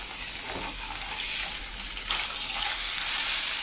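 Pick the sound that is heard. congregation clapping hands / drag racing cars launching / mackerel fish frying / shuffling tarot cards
mackerel fish frying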